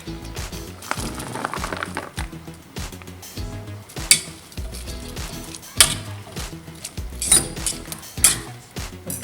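Vegetables being stirred in a pot of tomato stew make irregular close knocks and clatters of a spoon against the pot, interspersed with soft wet squelching and short pauses; no talking.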